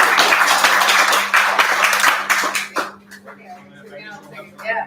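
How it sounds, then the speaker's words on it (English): Audience applause at a Toastmasters club celebration stage event, a dense wash of clapping for about three seconds that then thins out into scattered claps and murmuring under a steady low hum. "You can get a better round of applause."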